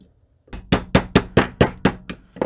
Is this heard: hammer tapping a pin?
yes